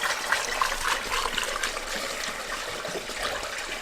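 Water pours and gurgles through the engine cooling system of an old Mopar abandoned for over 20 years, with the overflow hose removed, a steady splashing flow nearby with no talk.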